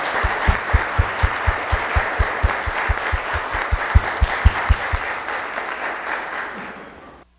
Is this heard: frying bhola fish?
no